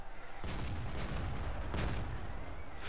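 Tank cannon blasts in a World of Tanks match where a ball is being shot: two heavy booming shots about a second apart, then another near the end, loud and close over constant rumbling engine noise, with no talking.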